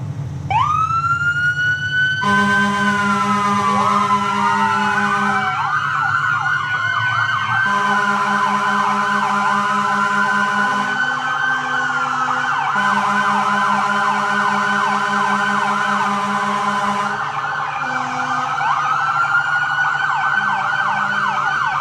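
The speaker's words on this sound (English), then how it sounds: "Light them up, lights and siren." Emergency vehicle sirens wail loudly and continuously for over twenty seconds. Several overlapping tones sweep up and down while a steady lower pulsing tone switches on and off, with no talking.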